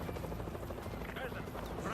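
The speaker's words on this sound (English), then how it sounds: "I'll take care of the helo once it shows up." Helicopter rotor chop in the Modern Warfare 2 Remastered video game, a steady throbbing drone that holds for two seconds at moderate level with game speech over it.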